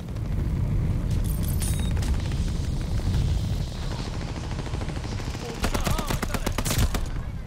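Gunfire and distant explosions in the Call of Duty: Vanguard video game, a dense rumbling barrage with scattered sharp shots, ending in a burst of rapid cracks near the end, with a voice speaking underneath.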